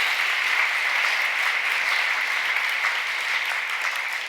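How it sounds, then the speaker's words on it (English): Steady applause from a large crowd at a housing summit in Portland, Maine fills the whole stretch, dense and even, with no voices over it. "let's give her a round of applause"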